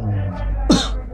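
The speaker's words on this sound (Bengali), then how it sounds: "কাশি দেন তো" A patient gives a single sharp, forceful cough on request during a doctor's examination, close and loud, with faint voices and room tone around it.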